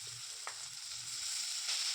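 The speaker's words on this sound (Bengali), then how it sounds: "ঘিটা দিয়ে আমি এবার গ্রেট করে রাখা গাজরগুলো এর মধ্যে দিয়ে দিচ্ছি" Grated carrots frying in ghee in a pan, giving a steady, soft sizzle with a faint hiss and a few light scraping stir sounds, heard alone with no voices.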